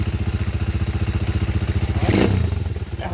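A repaired 200cc motorcycle engine idles close by with an even, rhythmic thumping putter, and a short clatter sounds near the end.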